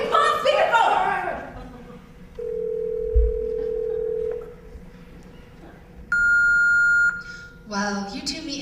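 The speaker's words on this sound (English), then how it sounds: "It's ringing!" A phone on speakerphone rings in two separate electronic tones, a long low steady tone followed by a higher bleep after a pause, amid excited voices before and after.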